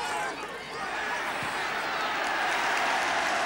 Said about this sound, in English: And Gilson quite rightly getting a round of applause for taming MacDougall